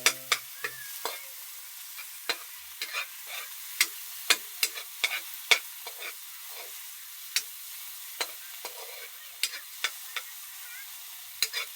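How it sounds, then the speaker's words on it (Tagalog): Crushed tomatoes sautéing in a pan for pinakbet, with a steady low sizzle under frequent sharp taps and scrapes of a spatula against the pan, close and unhurried, with no talking. "Ganyan lang po ang paggisa-gisa. Kailangan yung kamatis. Ayan, dapat durog na durog na."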